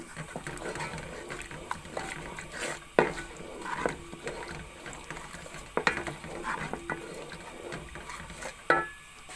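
Ground red chilli being stirred into chicken curry in a pot, with scraping spoon strokes, soft sizzling and several sharp metallic knocks against the pan, fairly close and moderately quiet, no talking.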